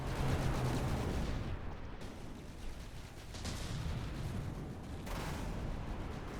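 EMP weapons fire from battleships in the naval combat game From the Depths, heard as faint, distant volleys of rumbling bursts that blend into a steady, muffled roar.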